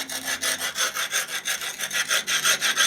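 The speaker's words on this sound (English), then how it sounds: "Smooth the surface of the stone with the rubbing block." A rubbing block is worked back and forth over a carved surface of man-made stone, giving a steady rhythmic scraping rasp of about a dozen even strokes, close and fairly loud, with no talk.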